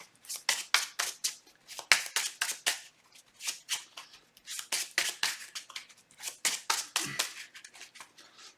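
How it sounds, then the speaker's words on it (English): Encounter cards being drawn in a Spider-Man themed card game with Ghost-Spider against Venom and Goblin: a quick, close run of crisp card snaps and slides, repeating in short bursts with brief pauses. "So we're going to be taking 4 encounter cards here."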